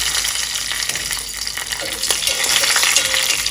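Cashew nuts fry in hot ghee inside a small urli, giving a steady, bright sizzle with faint bubbling pops and occasional light stirring scrapes. No one speaks.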